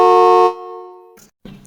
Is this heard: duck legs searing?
no